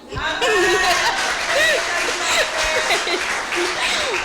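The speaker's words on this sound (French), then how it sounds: "On acclame Dieu plus fort, plus fort, plus fort." A church congregation applauds loudly and continuously, dense clapping mixed with cheers and voices, sustained throughout at close range.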